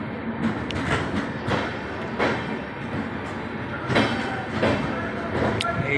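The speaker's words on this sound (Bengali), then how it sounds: "এনজিবি থেকে ট্রেনটা ছাড়লো আর আমি এখন যাচ্ছি নিউ কুচবিহার" A train pulling out of NJP station in Siliguri, with steady rumbling rail noise and periodic clacks and squeals of the wagons rolling over the track.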